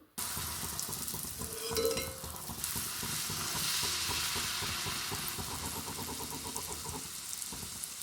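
Continuous crackling sizzle of puri dough frying in hot oil in an iron pan over low heat, close and steady, with occasional stirring clatter.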